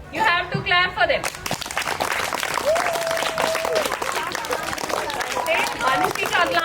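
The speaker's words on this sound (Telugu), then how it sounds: "You have to clap for them." Audience applause breaks out for a students' skit about Savitri Bai Phule at a boys' school, a steady wash of clapping and crowd noise sustained for several seconds with chatter and a brief voice mixed in.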